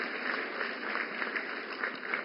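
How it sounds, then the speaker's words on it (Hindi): Applause from an audience at a New Delhi women's empowerment programme, a continuous moderate clapping wash heard from a distance with a faint steady tone running underneath. "जोरदार तालियों से स्वागत करें"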